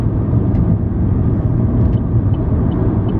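A car drives through traffic while changing lanes, giving a steady loud road rumble and engine drone throughout with no breaks, and a couple of faint higher ticks near the end.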